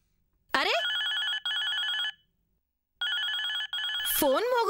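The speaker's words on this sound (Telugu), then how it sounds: "ఫోన్ మోగుతుంటే ఎత్తకుండా ఏం చేస్తున్నారు?" A telephone rings loudly in two repeated bursts with a pause between them, opening and closing with brief swooping tones, and no one speaks over it.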